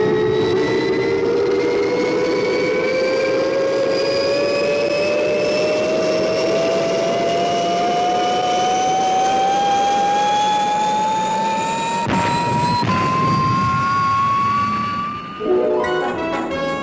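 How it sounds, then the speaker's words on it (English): A Fireball XL5 spacecraft roars at liftoff, a sustained jet-like engine blast with a whine that climbs steadily in pitch, ending with a brief clattering burst. "Stand by for liftoff."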